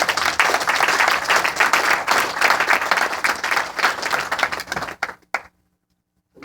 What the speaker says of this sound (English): I think you should give them a round of applause.